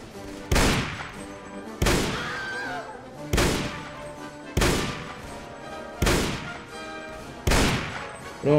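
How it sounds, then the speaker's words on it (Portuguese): Heavy gunfire in the Mount & Blade Red Wars mod, a World War Two setting, comes as six loud, evenly spaced booming shots about every second and a half, each with a decaying echo. "os caras estão atirando aqui"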